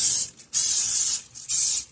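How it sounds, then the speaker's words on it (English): Three short bursts of canola oil cooking spray, each a bright hiss lasting about half a second, separated by brief pauses, close and loud, while greasing a cake pan. "I have some canola oil spray"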